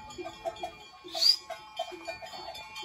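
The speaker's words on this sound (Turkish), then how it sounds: "Anadolu keçilerinin Asya'ya doğru yolculuklarını izliyoruz şu anda." A herd of Anatolian goats passing by outdoors at a winter camp in rain: a scattered patter of hoof or bell clinks and occasional faint bleats, with one louder bleat midway.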